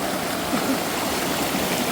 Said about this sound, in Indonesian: Nah ini kita melewati sungai.